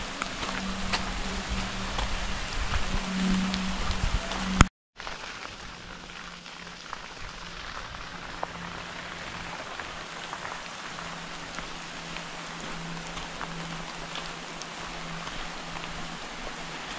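Steady rain hissing down at a Brazilian waterfall bathing spot on the Paraíba River, a dense broadband wash that drops out abruptly for a moment, then continues a little quieter and more distant.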